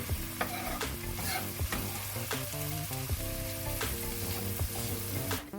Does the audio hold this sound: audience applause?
no